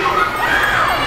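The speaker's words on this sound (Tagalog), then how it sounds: "gusto ko muna makarinig na isang malakas na palakpakan at sigawan dyan!" A concert crowd in Davao cheers and shouts loudly for a singer, a steady dense roar of voices with high excited calls throughout, close and continuous.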